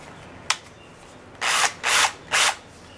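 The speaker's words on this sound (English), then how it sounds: "just quickly drill 4 holes and set it in place" A short burst of a power drill, then three louder whirring drill runs in steady succession as four holes are drilled for a wheeled planter base, close by with no talking.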